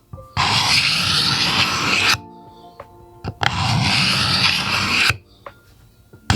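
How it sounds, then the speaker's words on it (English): A chisel pulled along the glued seam of a wooden dovetail drawer, scraping dried glue away in two long, loud, rasping strokes. Each stroke runs about two seconds, with quiet gaps and light clicks between them. "you take your chisel and grab it close to the base like that, and instead of going against it, you know, pushing it, you're gonna pull and scrape"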